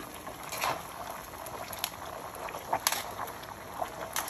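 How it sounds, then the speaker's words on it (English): Beef and vegetables cook in hot oil for beef chow fun with black bean sauce, producing a continuous bubbling sizzle, moderately soft and close, with scattered sharper pops and crackles and no talk. "this is a very quick running the beef and the vegetable in the oil"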